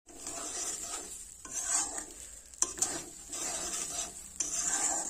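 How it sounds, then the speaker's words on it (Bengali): Rice and lentils are dry-fried and stirred in a pan for khichuri, a close, continuous gritty scraping and rasping with faint sizzle and occasional knocks of the spoon against the pan, with no voices. "চাল ডাল খুব ভালোভাবে নাড়াচাড়া করে ভেজে নিয়েছি"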